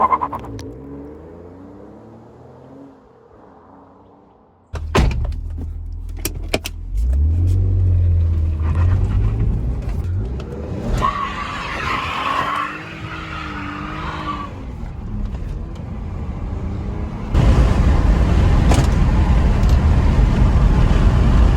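A BMW 523i E39 pulls away hard from a standstill, its engine revving up loudly with tire noise as it accelerates, followed by steady road and wind roar from inside the moving car.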